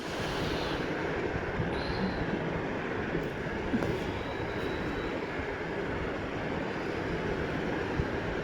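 A steady, loud rumble of a train ride toward Panipat fills the whole stretch, with continuous broadband rolling noise and faint squeals, no talking.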